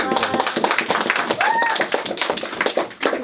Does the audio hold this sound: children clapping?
yes